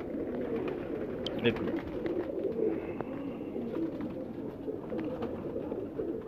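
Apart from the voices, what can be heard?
pigeons cooing, Fransi breed pigeon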